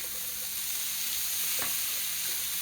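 Sweet potato taco filling frying in a pan gives off a steady, soft sizzle, with one brief scrape of a stirring utensil partway through; no one speaks.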